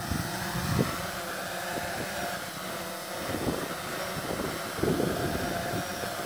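A Yuneec Typhoon H drone hovering just above the ground, a steady close whirring rotor drone with a broad airy roar and small shifts in pitch, no voices.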